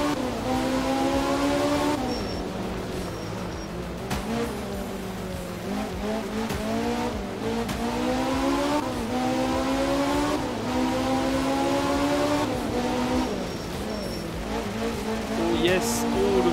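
A rally car races through tight, twisting stages in the video game Art of Rally, its engine revving steadily and loudly with rising and falling pitch as it shifts and slides, while someone talks over it.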